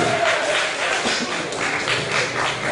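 An audience at a village quiz competition in Desa Tumbakbayuh, 2017, claps steadily in a dense, even burst of applause filling the hall for a few seconds.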